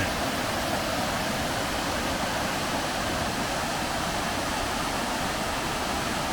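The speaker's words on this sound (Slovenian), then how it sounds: "Tukaj se pa že sliši bučanje velikega javornika." Veliki Javornik waterfall roaring in the Slovenian karst woods, a constant dense broadband rush that stays loud and steady throughout with no talk.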